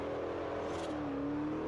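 Bugatti Veyron Super Sport racing through a speed trap in Forza Horizon, a steady, loud engine drone at very high speed with a tone that climbs slightly, heard alone without voices.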